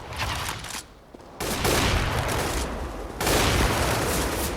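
Dense gunfire in the shooter video game Counter-Strike: Global Offensive, with rapid overlapping bursts that drop briefly and then resume louder and continuous, with no voices.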